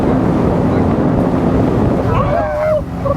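Loud, constant rushing roar of a fast speedboat's engine while island hopping in Langkawi, mixed with buffeting wind against the microphone, with faint high squeals near the end.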